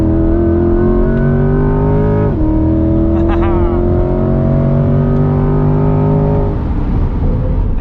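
Engine of a 2021 Chevrolet C8 Corvette Z51 on a track, heard loud from inside the cabin as it climbs through the revs and shifts up, with a voice speaking over it.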